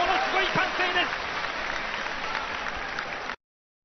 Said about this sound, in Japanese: ものすごい緊迫感、ものすごい歓声です。